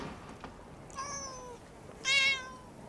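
A cat in a film gives two clear meows, the first a drawn-out call and the second a louder, sharper cry about a second later, over a quiet background.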